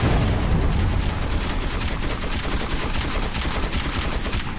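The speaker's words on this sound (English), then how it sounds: "I'm just shooting everybody." Rapid, dense gunfire from the video game Metro 2033 rattles nonstop in loud overlapping bursts, a continuous barrage of shots with no pauses and no talking.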